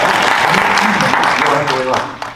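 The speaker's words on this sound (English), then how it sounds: "You can clap for him" Audience clapping at an endorsee celebration, a dense burst of applause filling the room and fading toward the end, with voices talking over it.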